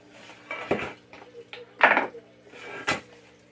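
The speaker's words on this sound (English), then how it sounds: "And I'm going to give this a stir." A spoon stirs dry strawberry-muffin ingredients in a bowl, giving three or four separate scraping, clinking strokes against the bowl with quiet gaps between them.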